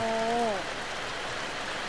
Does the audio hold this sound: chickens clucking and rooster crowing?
no